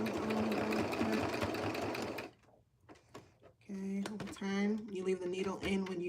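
A sewing machine runs in a steady, fast whir while stitching a VikiSews Liliana vest, stops briefly, then restarts in short uneven bursts, with a voice talking nearby.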